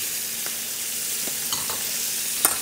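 Chilis and garlic frying in butter, a constant bright sizzle with a few light spatula taps and scrapes scattered through, close and moderately loud, no talking.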